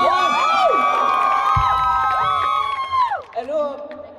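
A crowd at a university freshman welcome concert cheers loudly for a guitarist, with high sustained shrieks and whoops layered together up close before they break off into scattered voices.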